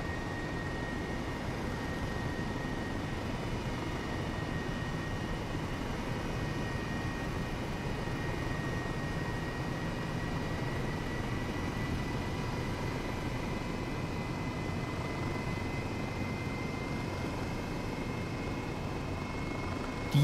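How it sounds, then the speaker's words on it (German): Airbus H135 helicopter on a landing approach to a hospital helipad in Microsoft Flight Simulator, a steady, even rotor and turbine drone with a faint high whine, continuous and unchanging, no talking. "wir sind hier zurück am Klinikum in Coburg und befinden uns direkt im Landeanflug auf unseren Helikopterlandeplatz"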